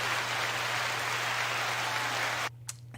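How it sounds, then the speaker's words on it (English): A live show audience claps in a dense, steady roar of applause for a couple of seconds, then it cuts off abruptly, leaving a low hum and a few scattered claps. "Let's give an applause."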